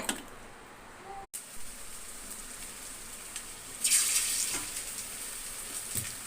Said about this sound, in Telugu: చికెన్ ముక్కలు వేయించుకుందాం.